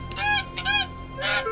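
Goose honks from the nature board game Preserve, three nasal calls in a loose rhythm, fairly close and clear with no talking over them.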